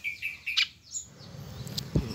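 A white-throated fantail (sikatan kipas) gives several short, bright chirps near the start, then quieter calls over a low background rumble and one sharp tap near the end.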